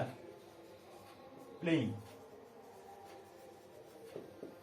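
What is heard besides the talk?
teacher writing on the board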